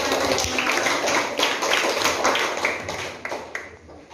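Classroom children clapping together at close range, a dense, continuous patter of many small hands with some irregular louder claps mixed in.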